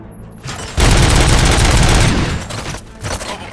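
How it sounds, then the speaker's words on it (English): Loud bursts of gunfire from the Robocop Rogue City video game, a dense fusillade of overlapping shots lasting over a second and then trailing off into scattered rattling echoes, with no talk. "Gunshots? What's going on?"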